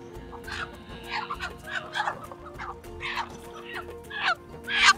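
Chickens in a poultry shop cluck and squawk in irregular bursts over a low steady hum, with one louder, shrill call near the end.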